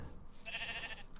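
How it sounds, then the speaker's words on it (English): A single faint sheep bleat from Minecraft, a short wavering tone lasting about half a second against quiet background game ambience, with no talking. "We've got more sheep here."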